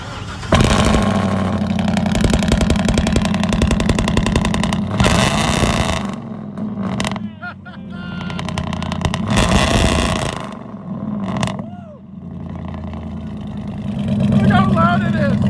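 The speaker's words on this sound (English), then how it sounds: "Alright, let's see a cold start." A 2011 Chevy Silverado 2500HD with a 6.0L V8 and true dual straight-pipe exhaust cranks and fires on a cold start, roaring loud and close, with revs rising and falling and a person talking over it.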